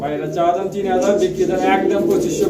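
A pair of Beauty Homer pigeons cooing at close range, low rolling coos repeating through the clip while a person talks over them.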